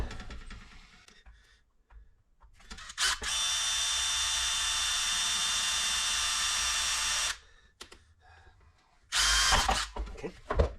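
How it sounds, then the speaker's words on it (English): A power drill whirs into the metal of a Craftsman propane heater in one long steady burst, drilling a pilot hole, pauses, then runs again briefly; quiet handling noises fill the gaps. "I'm going to drill a pilot hole."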